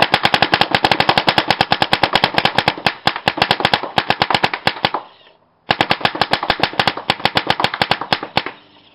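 Shocker and Etek paintball markers firing rapid, continuous volleys of sharp pops, loud and close, with a short pause in the middle before the fast shooting resumes.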